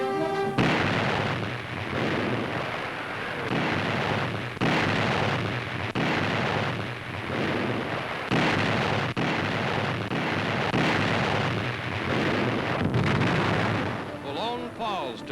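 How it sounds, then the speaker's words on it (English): A barrage from 15-inch coastal guns firing one-ton shells on the entrenched enemy at Boulogne, heavy booms thudding out in quick, repeated blasts under newsreel narration throughout. "15-inch coastal guns open a devastating artillery barrage against the entrenched enemy in Boulogne."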